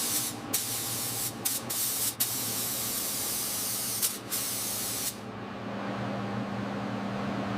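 High build primer sprayed onto a truck, a loud steady spray hiss broken by brief pauses, then easing into a softer continuous hiss with a low hum near the end, with no talk.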